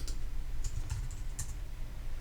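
Light, quick clicks of computer keys typing Java code, a short irregular burst over a low steady hum, with no talking.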